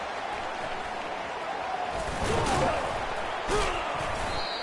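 Crowd roar swelling during a punt return in the NCAA 25 college football video game, a steady stadium din that rises into louder cheering bursts partway through, with thuds and a commentator's voice over it.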